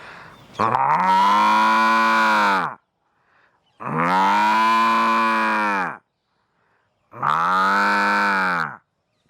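A voice mimicking village cows and buffaloes: three long, deep lowing moos, each about two seconds, separated by short pauses, loud and close with no other sound.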